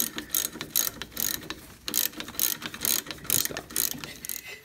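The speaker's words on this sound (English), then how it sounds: "we can get this wheel cylinder bolt off" A ratchet wrench loosens a brake wheel cylinder bolt on a 1973 VW Thing, giving a quick run of loud, close clicking bursts in uneven bouts with short pauses between them.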